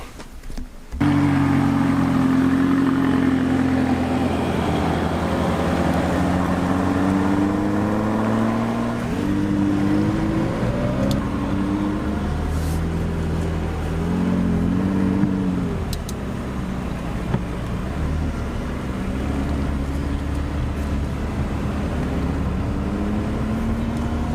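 McLaren 570GT sports car in purple, its engine droning loud and close as it accelerates on the road, the pitch climbing through gears with smooth harmonic sweeps and brief dips at shifts, no talk.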